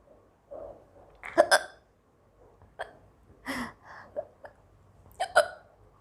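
Close, sharp hiccups from a woman eating, coming singly and in short pairs at irregular intervals with quiet breaths in between.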